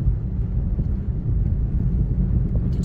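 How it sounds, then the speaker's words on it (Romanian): Strong mountain wind on Romania's Transalpina road buffets the microphone in a constant low roar with gusty rumbling, no voices present. "Dar chiar bate vântul tare."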